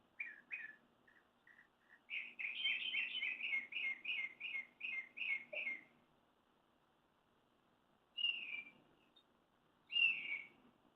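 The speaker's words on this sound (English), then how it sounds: "Listen to that bird." A single bird sings outdoors in repeated bright whistled bursts, first short notes, then a rapid run of loud chirps, then two isolated calls after a pause, fairly close and clear over a quiet background with no talking.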